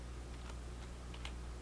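Faint, sparse keystrokes on a computer keyboard while a Linux command is entered, a few soft clicks over a quiet background hiss.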